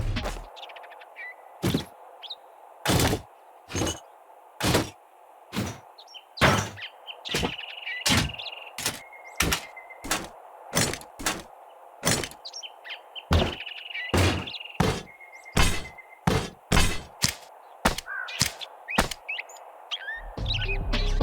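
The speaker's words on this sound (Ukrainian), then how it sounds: "Також були змінені звуки, які ви чуєте в інвентарі при переміщенні таких предметів" In the game 7 Days To Die, a run of short, sharp inventory clunks and clicks at irregular intervals, separated by near silence, like objects being picked up and dropped into place.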